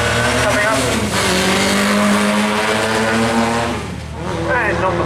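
A 1959 Lotus race car at the Brighton Speed Trials roars close by at high revs, its engine note climbing through the gears before easing off briefly and picking up again, with a commentator talking over it.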